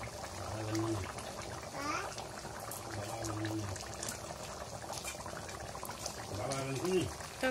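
Meat curry boils vigorously in a pot, a steady, close bubbling and popping that runs throughout, with a voice speaking now and then over it.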